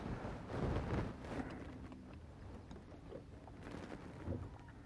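Steady west wind blows across the microphone while fishing, a low rushing roar that swells and eases with gusts, with no voices.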